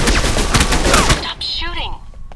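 Dense rapid gunfire from a shootout in the video game Alpha Protocol, loud bursts crowding the first second before cutting off, with a voice briefly over the tail.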